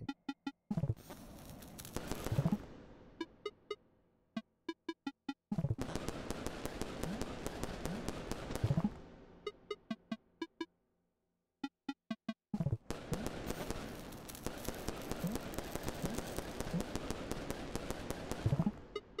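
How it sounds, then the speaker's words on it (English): Firecrackers in the video game Animal Well pop in three long bursts, each a rapid, dense crackle of sharp snaps with scattered trailing pops between, loud and close, with no talk over them. "Firecracker."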